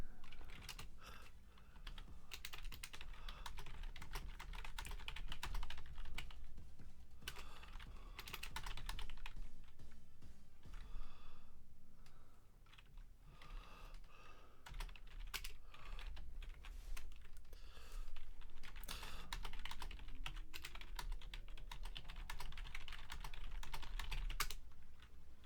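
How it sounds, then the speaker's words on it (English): Loud computer keyboard typing during a PC tournament setup, rapid dense clatter of keystrokes continuing nearly nonstop with a few brief lulls, close up and without talk. "I should probably try and invest in a keyboard that's a little less loud"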